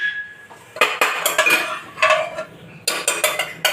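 A pot of dal for dal dhokli is set down on a gas stove. Several loud metallic clanks and clinks of pot and utensils come close up, in short bursts separated by brief pauses.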